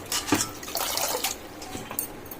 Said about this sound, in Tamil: தண்ணி வடிகிற பாத்திரத்துல கீரையை நல்லா கழுவி எடுத்து போட்டுக்கலாம்